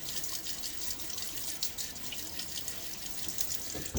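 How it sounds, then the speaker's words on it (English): Water runs steadily from a bathroom sink tap while someone splashes it onto a bearded face before a wet shave, a continuous hissing flow with soft irregular splashes, close and unbroken, no talking. "Throw a little water on my face."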